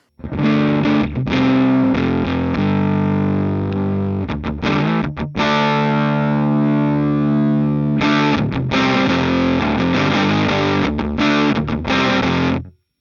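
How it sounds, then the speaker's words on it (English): A heavily distorted electric guitar plays sustained chords and riffs through a Mooer Prime P2 headphone amp with a 2x12 cabinet simulation, thick and buzzing with a gritty overdriven tone, loud and close, with no voices. "I'm not liking that amp too much, it sounds quite fuzzy"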